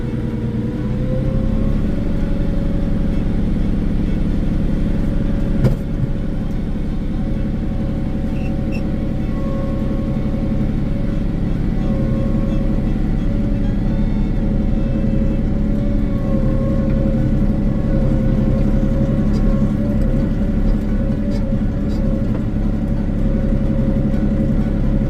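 A 2024 KIOTI NS 6010 HST cab tractor drives along, its diesel engine giving a steady, loud low rumble from inside the cab that barely changes in pitch for the whole stretch.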